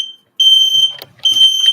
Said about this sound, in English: At least I know the smoke alarm works.